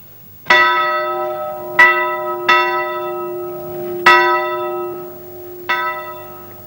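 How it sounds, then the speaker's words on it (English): A great town bell on a roof rings five times at uneven intervals, each strike loud and clear with a long ringing decay, alone in a quiet setting. "they summoned everyone together by sounding this great bell on the roof"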